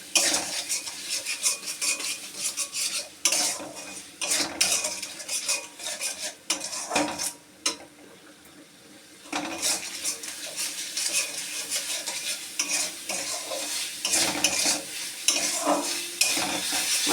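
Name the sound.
stirring and frying spice masala in a pan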